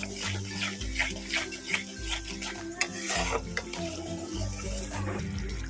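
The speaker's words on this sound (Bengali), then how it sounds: "টক দই এবার এটাকে ভালো করে কষিয়ে নেব একদম লো ফ্লেমে" A spoon scrapes and stirs as whisked sour yogurt is cooked into spice masala over a low flame for a paneer curry, with soft repeated clinks against the pan over a steady background hum.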